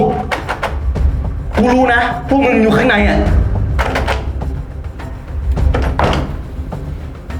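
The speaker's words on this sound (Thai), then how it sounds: "เปิดประตู" A door is opened amid several loud, close thuds and bangs, with voices shouting over the noise.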